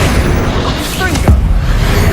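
A Confringo fire spell from Hogwarts Legacy whistles briefly, then lands as a single punchy explosive boom, close and loud, with steady game background around it.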